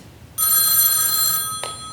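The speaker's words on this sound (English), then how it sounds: "That dratted phone again." An old-fashioned telephone bell rings in a home, a loud bright ring close by that stops abruptly, then one short extra clang.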